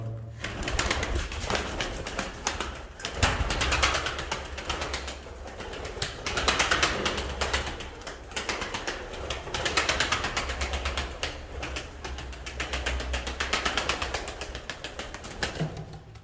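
Pigeons coo repeatedly close by while wings flap in bursts, a steady murmur of soft throaty calls with occasional flutters over a low background hum.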